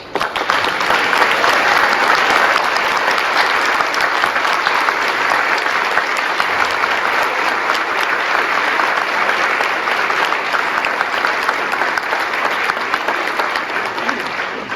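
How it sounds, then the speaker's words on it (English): Loud, sustained applause from a large audience at a panel at the 2023 IAAPA Expo, steady clapping that fills the whole stretch without pause. "please stand up and receive our appreciative round of applause now"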